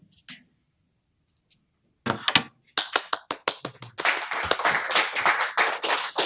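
Applause from an audience at a tech lightning-talk event. It starts after a near-silent pause with a few scattered claps that thicken into a fuller, fairly close burst of clapping.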